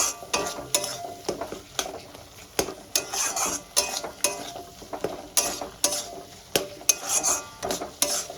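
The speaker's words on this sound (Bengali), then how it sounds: "আর বেসিক মশলাগুলো দিয়ে সুন্দর করে আমি কষাতে থাকবো" Basic spices sautéing in oil in a pan for a dish of katla fish head with elephant foot yam, rhythmic metal spatula scrapes and clinks repeating every half second over a light crackling sizzle, close up.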